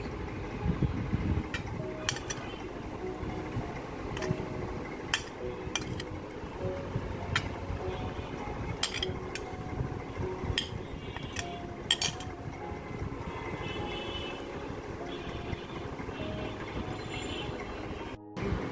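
Chicken curry being served onto plates at home: scattered light clinks of cutlery and dishes, sharp metallic taps repeating irregularly over a soft background rumble.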